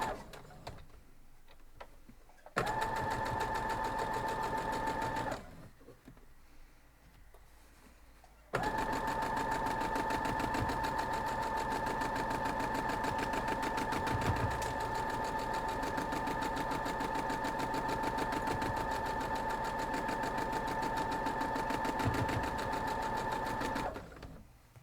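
A sewing machine stitches a quilt block in a steady, fast mechanical whir, stopping briefly after a few seconds and then running without a break for a long stretch, close and alone.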